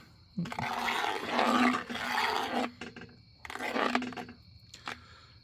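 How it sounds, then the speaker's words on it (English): A spoon scrapes along the bottom of a pot of South Carolina BBQ pork hash in two long rasping bursts, followed by a few short scrapes, close and fairly loud. "Scraping the bottom."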